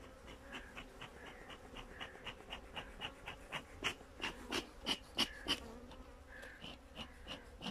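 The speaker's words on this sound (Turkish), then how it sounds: "Akşam ezanına yakın açarsak biraz böyle oluyor. Arı huysuzlanıyor." Agitated honey bees at an opened hive near evening buzz in a steady drone, with repeated sharp, close passes sweeping by every fraction of a second as individual bees fly near.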